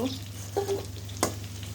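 Vegetable bhaji is stirred as it fries in a pan, with a soft sizzle and a couple of brief scraping strokes of the spoon, close and fairly quiet.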